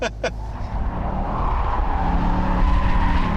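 A Dodge Challenger SRT8 does a burnout. Its engine roars steadily for several seconds, close and loud, with a broad hiss of spinning tyres over a deep rumble. Brief voices are heard at the start.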